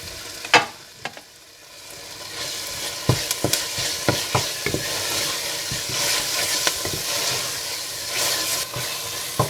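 Fish biryani masala with garam masala, mint and coriander being mixed in a pot: a few sharp clanks of a spoon open, then a steady sizzle with repeated stirring scrapes and knocks, close by and free of speech.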